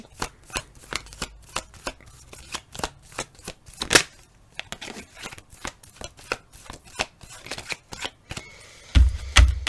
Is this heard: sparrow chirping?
no